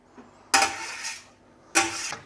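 Two scraping, swishing strokes of a spoon stirring food with chopped oregano and basil in a pot, close and fairly clear, separated by about a second of near quiet.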